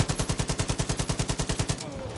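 Rapid automatic gunfire in Far Cry 5 rattles out about fifteen close, loud, evenly spaced shots in a steady burst, then stops into quieter background sound.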